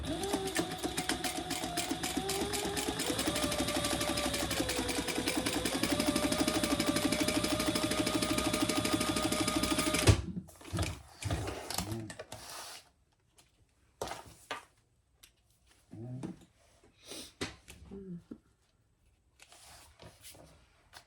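A sewing machine stitches a fabric cover for a composition notebook, a rapid, steady mechanical rattle for about ten seconds whose pitch briefly shifts, then stops, leaving scattered handling clicks and rustles.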